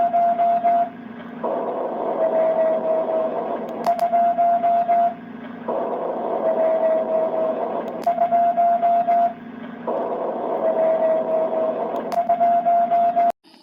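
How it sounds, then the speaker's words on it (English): A radio echo bounced off the moon and Doppler-shifted comes back as a repeating narrowband tone inside hissy radio static, pulsing in regular bursts of a few seconds each with short gaps, loud and without speech. "the signal bounces back at a lower frequency because the moon is moving away from us"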